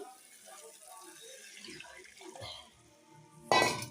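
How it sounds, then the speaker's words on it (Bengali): Water is poured into cooked, fried-down spices in a pan on a gas stove, erupting in a sudden loud hissing splash near the end after a quieter stretch of kitchen background sound. "এই মশলাগুলো কষানো হয়ে গেছে, এবার জল দিয়ে দেবো। এই যে জল দিয়ে দিচ্ছি"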